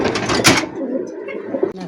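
Pigeons coo in a loft, a soft low murmuring call near the start that fades into quieter cooing and light background noise, with a brief knock near the end.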